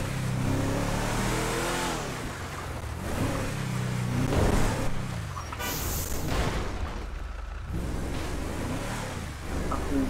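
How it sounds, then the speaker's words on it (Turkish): A car engine revs steadily while driving in a video game, a loud, continuous roar that rises and falls across the whole stretch with no talking over it. "araba sürmeyi gerçekten seviyorum"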